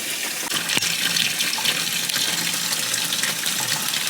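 Tap water running steadily into a tank to rinse developed Fomapan black-and-white film, a continuous close hiss of flowing water with a faint knock near the start.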